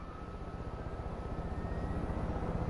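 A helicopter in the Far Cry 5 video game drones steadily and close, its low, even engine roar pulsing with a fast rotor beat throughout, with no talking over it.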